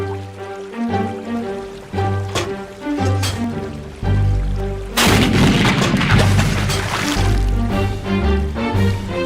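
A cartoon cannon fires with a sudden loud boom about halfway through, its blast and rumble washing over the steady festive DJ music that plays throughout.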